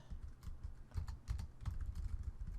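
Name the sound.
typing a search on a computer keyboard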